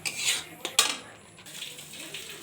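Paneer stirred and sautéed in ghee with tomato and onion in a pan over a medium gas flame, with a few sharp scraping clinks of a spatula against metal amid a soft, steady background hiss.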